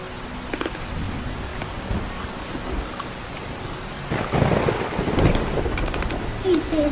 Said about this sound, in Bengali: এই দেখো, বৃষ্টি শুরু হয়ে গেল।